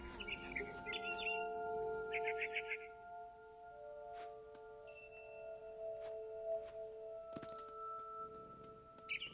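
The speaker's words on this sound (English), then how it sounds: "It was a barn swallow going back to her nest." Short chirps of a barn swallow in the video game What Remains of Edith Finch, repeated several times early on over steady tonal game ambience and music, with a brief high tone later.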